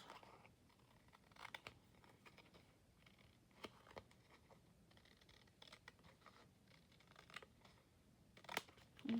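Paper being trimmed with scissors at a craft table while making journal tags and cards: quiet, sparse snips and rustles scattered through the stretch, with one sharper cut near the end.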